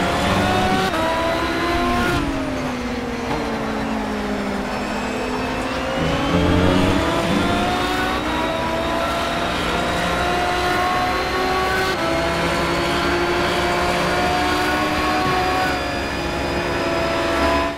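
Aston Martin race car engines in the Project CARS video game, a steady loud drone of several engines whose pitch rises and falls with shifting and revving, plus faint tire squeal, with no talk over it.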